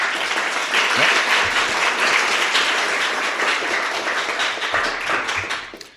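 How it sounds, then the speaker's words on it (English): An audience at a Spokane poetry grand slam event applauds the library district sponsor, with sustained, fairly close clapping that stays full throughout and fades out in the final moment. "let's give them a round of applause"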